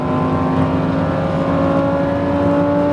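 A Lamborghini Huracan STO engine on a race track, giving a loud, steady, close-up drone under acceleration that holds a constant pitch through the short stretch, with no talking.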